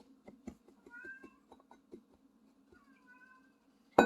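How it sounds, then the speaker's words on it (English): A cat meows a few times in the background, with soft, drawn-out calls over quiet shuffling and light tapping, ending with a sudden loud bump. "you can hear my cat in the background a little bit"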